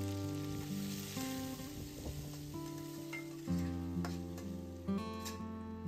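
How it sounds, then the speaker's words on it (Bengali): Chopped onions frying in oil with dried red chillies, bay leaves, whole garam masala and shahi jeera, a soft continuous sizzle with occasional stirring scrapes, close but fairly quiet under steady background music. "এবার সেই তেলে একে একে শুকনো লঙ্কা, তেজপাতা, গোটা গরম মশলা ও সাজিরে ফোড়ন দিয়ে দুটো মিডিয়াম সাইজের পেঁয়াজ কুচি ভেজে নেব।"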